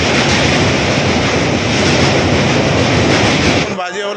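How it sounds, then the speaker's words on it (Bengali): A passenger train runs steadily after leaving the station on a Kolkata to Jhargram trip, a loud continuous rumble and rattle of wheels that stays even throughout, then cuts off abruptly near the end. "দেখতে পাচ্ছ যে ট্রেন ছেড়ে দিয়েছে আমাদের।"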